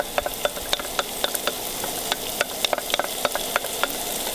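Barbecue sauce and onions cook in a pan with a constant close sizzle, punctuated by sharp, fairly regular spoon taps and scrapes against the pan as the mixture is stirred. No voices are heard.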